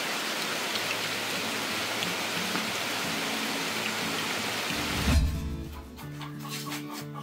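Steady rain falls at a rural smallholding in Pará, Brazil, a dense, even hiss that stays constant, with a low thump and a change in the sound near the end.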